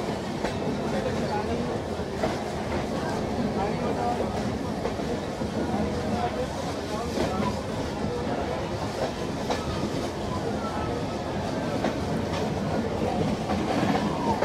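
An Araku passenger train rolls along the rails with a steady, loud rumble and faint rhythmic clatter throughout, heard from on board.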